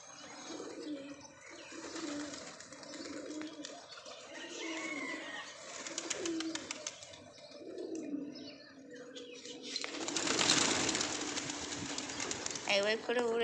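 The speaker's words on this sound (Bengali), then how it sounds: "সাদা পায়রাগুলোকে খুব ভালো লাগে।" White pigeons coo in low, repeated throaty bursts through most of the stretch, with flapping wings or a rustling burst near the end; a person talks intermittently over them.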